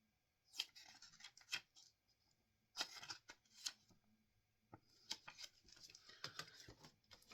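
Scissors cutting out a paper CD insert slip, a series of quiet close snips in short bursts with pauses between, faint and dry against a still room.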